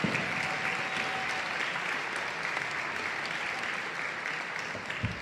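A basketball fundraiser crowd applauds in a gym, steady and sustained clapping from many hands at moderate distance, even in intensity throughout with no one speaking over it.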